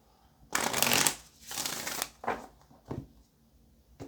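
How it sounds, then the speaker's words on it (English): Tarot cards are shuffled by hand in several quick riffling bursts, crisp and close, the first one loudest, the later shuffles shorter, with no talking over them. "Let's do one more shuffle."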